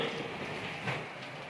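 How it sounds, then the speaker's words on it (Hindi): Steady rain pours down outdoors on a Ramadan day, a broad continuous hiss with a low rumble underneath, heard alone and fairly loud with no talking. "ये देखो बारिश ही बारिश हो रही है भाई"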